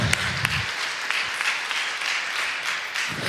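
Church congregation at a Sunday sermon applauding God and the word, a fairly loud dense burst of clapping that carries on steadily with a few sharper individual claps, a low voice murmuring briefly at start and end.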